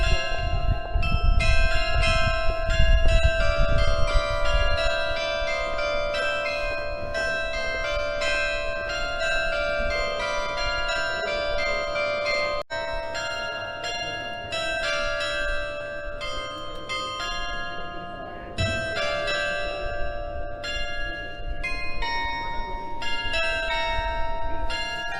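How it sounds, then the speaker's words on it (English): Church bells swing and ring in Düsseldorf next to a house built in 1632, their overlapping, resonant peals sustained and loud for about 25 seconds, with a brief lull midway before resuming. "Those bells are actually moving."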